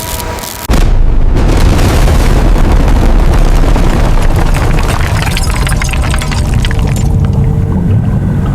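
A massive, sustained booming burst as air pockets in the Titanic's sinking stern give way, starting abruptly after a short lead-in and then roaring on loud and dense with rushing, pouring turbulence.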